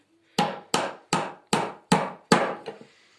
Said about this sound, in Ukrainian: беремо гвіздок. Я їм трошки піддержу і будемо забивати.